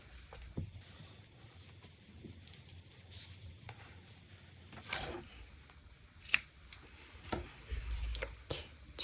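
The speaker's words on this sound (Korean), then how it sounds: "꼬리실 잘라주세요." Scissors snip the tail yarn of a hand-knitted shoulder bag, giving a few quiet, sharp clicks scattered over a soft background hush.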